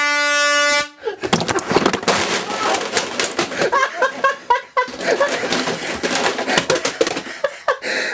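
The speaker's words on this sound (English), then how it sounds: "It's time to air horn the bastard." An air horn blasts one long, loud, harsh note up close to wake a sleeping man, then cuts off into a stretch of laughter and scuffling noise.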